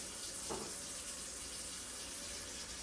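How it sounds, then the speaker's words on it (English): Tap water running into a cooking pot for pasta on a kitchen stove, a faint steady hiss of flowing water filling the pot, no voices. "Fill our pot up with water."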